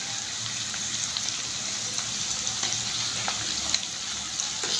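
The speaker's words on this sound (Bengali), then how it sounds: "এবার ভালো করে কষিয়ে নেব।" Goat meat being stir-fried in a pan with turmeric, salt and chili paste, giving a steady, close sizzle with scattered crackling pops and occasional scraping stirs, and no talk.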